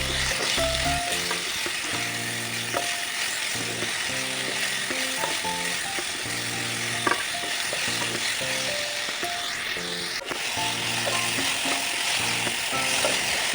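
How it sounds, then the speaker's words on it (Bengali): Potatoes and cauliflower fry in a pan with salt and raw poppy seeds, giving a steady, dense sizzle throughout, overlaid by a faint repeating tonal pattern. "বেশ ভালোভাবে ভাজতে হবে আলু আর ফুলকপিটা"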